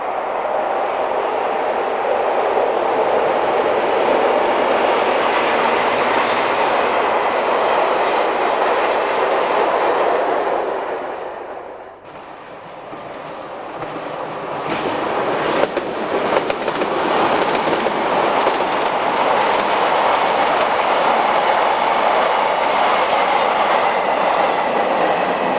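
A Class 90 electric locomotive hauls a freight train past on the main line: steady loud rumble and wheel clatter that dips briefly near the middle before the wagons keep rolling by close at hand.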